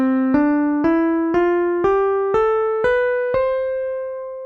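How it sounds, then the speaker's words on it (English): Eight clean guitar notes rise step by step through a major scale from Do up to the Do an octave higher, each plucked note ringing evenly at a steady, moderate pace with no talking. "If I have a major scale, it would sound like this"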